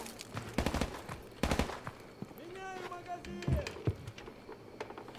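Gunfire in Call of Duty: Modern Warfare Remastered, rapid bursts of automatic shots in clusters, loud and close, over other game noises.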